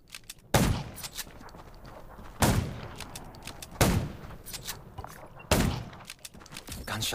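Gunshots in the zombie survival video game Undawn, four loud booming single shots spaced a second or two apart, each with a rumbling tail over a busy game backdrop.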